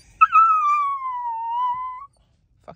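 A dog lets out a long, drawn-out wavering moan-like vocalization, rising then sliding gently down as if trying to talk, lasting nearly two seconds close to the mic, followed by a short faint sound.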